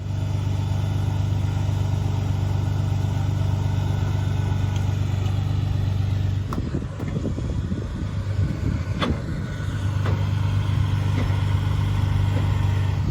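A wrecker truck idling steadily while winching a non-running Datsun 280Z race car onto a lift, a constant low engine hum broken midway by a burst of clanking and scraping before the idle settles again.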